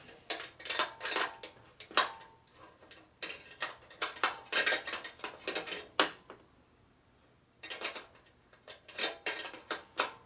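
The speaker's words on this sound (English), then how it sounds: "I'm going to take the top nut off." A hand ratchet wrench turns the top nut off a custom chopper motorcycle in a steady run of quick metallic clicks, pausing briefly and then resuming, close and fairly faint in a quiet workshop.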